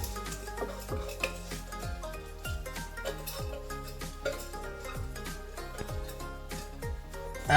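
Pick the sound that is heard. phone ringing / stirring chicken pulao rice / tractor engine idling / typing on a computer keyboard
stirring chicken pulao rice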